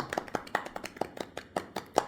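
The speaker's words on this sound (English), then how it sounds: "Golf clap round of applause." A small, quiet golf clap: a few people patting hands in an even, unhurried rhythm, about a dozen soft separate claps, no voices.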